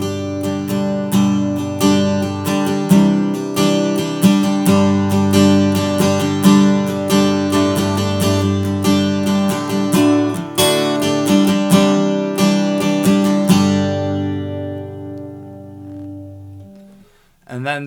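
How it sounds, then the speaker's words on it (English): Steady acoustic guitar strumming shaped with EQ and compression for a live setting: rhythmic, bright, full chords strummed continuously for about fourteen seconds before ringing out and fading, played alone and close. "And that just sort of sounds like this if I were strumming."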